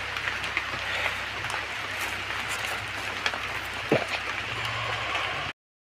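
Raindrops fall on a village field with sheesham trees in Uttar Pradesh, a steady outdoor patter and hiss with one soft thud partway through. The sound cuts off abruptly near the end.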